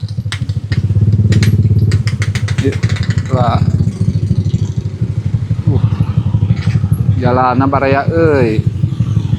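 Motorcycle engines drone steadily along a potholed village road in Sindangkerta, West Bandung, one passing loudly and close, with someone talking over the engine noise throughout.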